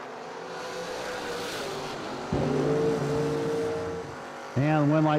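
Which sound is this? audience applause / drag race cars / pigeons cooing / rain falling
drag race cars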